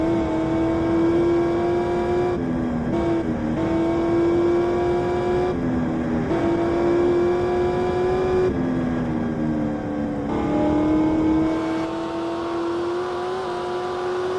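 A Hemi V8 engine hums and revs in repeated surges, its tone rising and dipping through several gear changes, loud and close, then settling to a lower cruise near the end.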